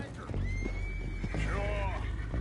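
A horse whinnies in the video game Red Dead Redemption 2, a clear rising then quavering neigh heard close over a steady low background hum, with a second shorter whinny following soon after.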